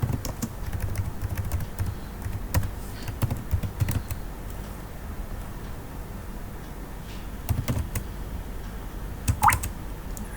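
Typing a command on a computer keyboard: irregular, close key clicks in short bursts with brief pauses, over a faint background hum.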